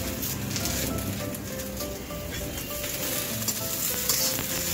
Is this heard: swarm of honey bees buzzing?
no